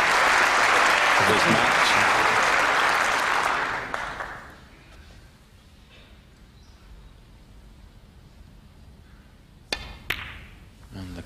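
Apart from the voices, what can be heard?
crowd applauding at a snooker match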